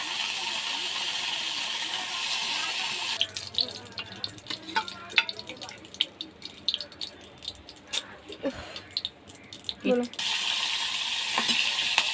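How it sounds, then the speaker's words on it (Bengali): Okra frying in hot oil in a wok, with a steady broadband sizzle, then stirring and scraping in the middle with uneven clatter, before the even sizzle returns. "এখানে আমি ঢ্যাঁড়সগুলো ভেজে তুলে নেব।"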